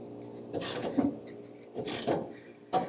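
Ratcheting socket wrench tightening a B&W Companion Slider fifth wheel hitch, heard as three close, loud bursts of mechanical clicking with short pauses between pulls.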